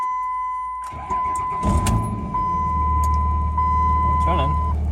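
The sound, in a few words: Cummins diesel engine of a single cab truck running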